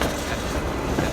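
A tram rolls along a city street in Novosibirsk, Siberia, beside the entrance to the Central Park, with a steady broadband rumble and faint wheel clatter, no voices.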